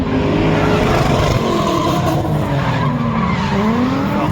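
A Fox body Mustang skids with a loud, sustained tire squeal over continuous engine roar at a drift event, the screech wavering in pitch and staying close and intense throughout.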